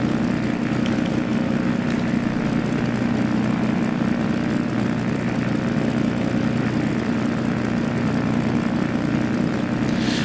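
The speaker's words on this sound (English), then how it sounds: "PANT takeoff, runway 12, departure southeast." An SF260D propeller plane taking off from runway 12 in the X-Plane 11 flight simulator, its engine drone steady and loud throughout with a constant buzzing tone and no voices.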